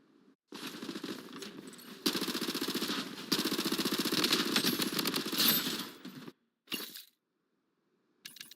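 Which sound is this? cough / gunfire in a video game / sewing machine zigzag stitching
gunfire in a video game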